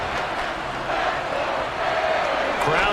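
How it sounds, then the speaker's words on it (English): A football stadium crowd at an NFL divisional playoff game between the Steelers and Dolphins holds a steady, dense roar that swells slightly, with no clear voices standing out. "Crowd getting in it a bit already."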